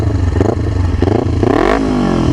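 Motorcycle engine and exhaust running close by, idling with a loud throaty note, then revving in a couple of bursts and rising into a strong climbing rev near the end, alone without talk.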